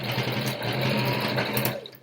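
Sewing machine running steadily, stitching across pinned fabric in one continuous burst of rapid needle chatter, close and clear, slowing briefly at the end.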